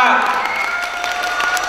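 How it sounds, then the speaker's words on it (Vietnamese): Crowd applause at a mid-autumn festival show in a music conservatory in Ho Chi Minh City, a brief burst of clapping under a voice and music-like tones. "Cho một chào vỗ tay thì to ạ."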